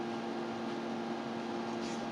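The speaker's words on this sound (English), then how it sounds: "You might hear the fan or the washing machine running right now." A household fan or washing machine runs steadily in the background, a faint continuous hum with a soft, even noise wash and no break throughout.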